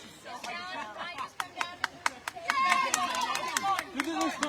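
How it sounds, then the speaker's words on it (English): Tribe members at an immunity challenge cheer and shout encouragement from both sides, a busy mix of raised voices and scattered sharp claps or knocks, building louder through the middle and staying lively to the end. "A lot of cheering on both sides, a lot of encouragement from the tribes."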